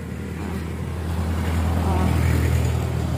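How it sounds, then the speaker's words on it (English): A big truck passing on the National Road at Santa Maria, Bulacan gives a steady, heavy low rumble that swells slightly over a few seconds. "malaking truck."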